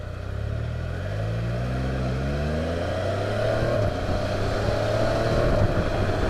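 A Can-Am Spyder RT three-wheeler accelerates on a North Carolina back road, its engine note climbing steadily through several rising gear pulls and settling into a loud, sustained drone with wind rush, no talking.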